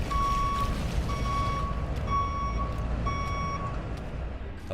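Truck reversing beeps in a video game, four evenly spaced electronic tones, each lasting just under a second, over a constant engine drone.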